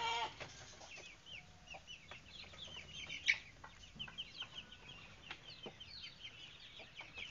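Young chickens, roughly a month old, clucking and chirping in a coop, soft overlapping calls with one brief sharper peep, fairly faint against a low background hum.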